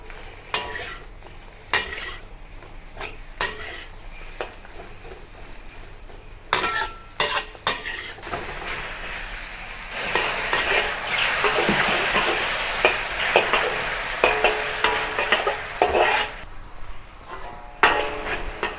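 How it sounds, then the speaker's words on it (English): Mushrooms stir-fried over medium heat with chopped garlic in a pan for a Chinese-style beef stir-fry, with repeated sharp spatula scrapes and clanks and a sizzle that swells loud midway, close and without talk. "Add the mushrooms and stir fry over medium heat until tender."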